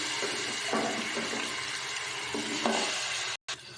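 Chicken pieces frying in hot oil with whole spices such as black pepper, cardamom, cinnamon, cloves and bay leaf, giving a continuous loud sizzle with a few stirring bumps and a brief cut near the end.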